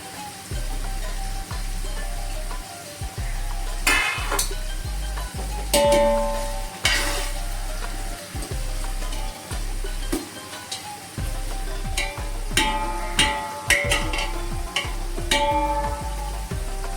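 Biryani masala for a mutton biryani sautés in a pan with a constant low sizzle and hum, broken by regular scraping strokes of a spatula, close and steady throughout.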